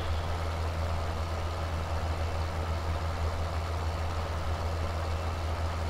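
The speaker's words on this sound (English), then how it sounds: "But yeah, I do like this tractor." Tractor engine in the video game Farming Simulator 17 runs with a steady, low, droning rumble, constant and unchanging in level, with no talking over it.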